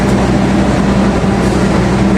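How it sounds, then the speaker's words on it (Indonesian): Mutiara Selatan passenger train rushing through Klaten station at about 120 km/h without stopping, a steady loud roar of wheels and wind filling the whole moment, with no talking. "Mutiara Selatan kenceng banget 120 km per jam dan lewat di stasiun Klaten"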